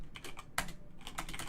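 A chat message is typed on a computer keyboard in a brisk burst of crisp, uneven key clicks, close and clear, with one sharper keystroke in the middle and no speech.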